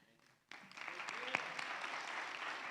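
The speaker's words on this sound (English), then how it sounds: "Round of applause for Bobby, making your parents proud" Applause from a community talent show audience for a guitar performer breaks out after a brief quiet moment, then holds as a dense, even wash of clapping from a crowd in a room.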